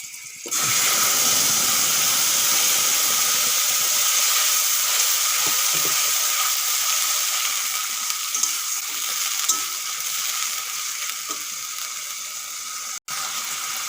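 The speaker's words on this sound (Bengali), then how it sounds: "আদা রসুন টমেটো পেঁয়াজ ভাজা হয়ে গেছে" A paste of ginger, garlic, tomato and onion fries in a pan with cumin, bay leaf and slit green chillies for fish curry, giving a loud, steady sizzle throughout with faint scraping ticks and no talking.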